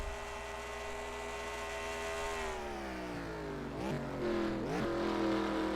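IndyCar race cars in a racing video game at Road America, with a steady, loud engine drone that rises in pitch as the car accelerates, then dips and climbs again through quick downshifts.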